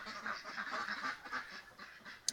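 Geese honking near a rural house, a string of nasal honks and quacks at moderate distance, fairly faint and alone.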